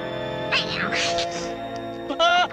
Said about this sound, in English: Azrael, you naughty kitty!